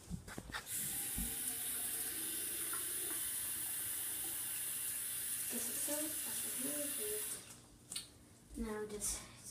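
A tap runs steadily into a sink while hands are washed, a continuous close hiss of water that stops near the end, with a few faint voices around it.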